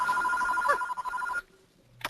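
A telephone rings with a steady electronic trill for over a second, then stops, followed by a brief click; fairly faint, no talking.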